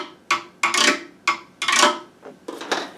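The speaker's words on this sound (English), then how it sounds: "Now I have a scraper." Repeated scraping strokes with a scraper used as a found-object percussion instrument, about six short rasping bursts in an uneven rhythm, close and fairly loud with quiet gaps between.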